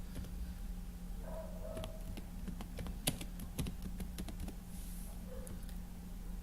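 Quiet, steady typing on a computer keyboard while entering a hospital chart title into merged spreadsheet cells, with irregular soft key clicks close by and a faint background hum.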